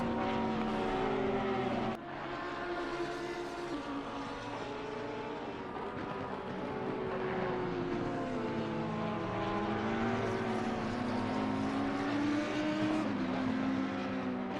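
Race cars lapping Zandvoort in the game Assetto Corsa Competizione, with continuous loud engine drone and rising and falling gear-change pitch sweeps, several cars overlapping with no talk.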